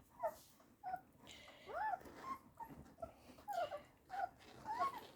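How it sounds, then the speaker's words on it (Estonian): A dog gives a serious, repeated growl in short rumbling bursts mixed with whiny, yip-like vocal edges, fairly close and moderately quiet. "Enda koeralt pole siukseid hääli kuulnudki ammu. Tõsine urin."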